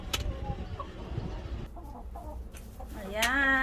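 Backyard chickens cluck in short, uneven bursts, close by, with a louder drawn-out squawk near the end and a faint voice in the background.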